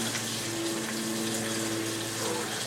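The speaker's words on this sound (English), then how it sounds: "I'm just going to rinse off my beans and then set them to the side" Tap water runs steadily into a kitchen sink while dried beans are rinsed, a continuous close splashing wash with a faint low hum underneath and no talking.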